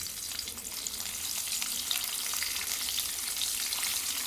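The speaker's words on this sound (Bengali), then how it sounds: "এখানে শুটকি মাছটা ভাজা হয়ে গেছে মচমচে করে" Dried fish (shutki) rubbed with salt, turmeric and spices frying crisp in oil in a kadai, a steady close, dense sizzle with faint crackles and no voices.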